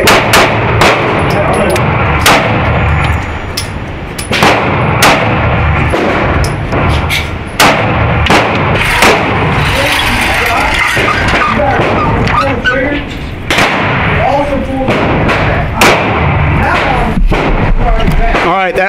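Handgun shots from a compact S&W Shield 2.0 or SIG P365 fired at 7 yards on a range, sharp loud cracks in an irregular series, with talking between and over the shots.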